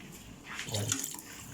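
Water is poured into a cooking pot for duck tinola, a brief soft splashing pour heard close up and fairly quiet, with no talking over it.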